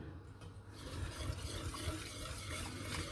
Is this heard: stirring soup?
yes